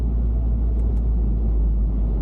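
A line of Mini cars drives past on a race track at a track day, heard as a steady, heavy low engine rumble with no break.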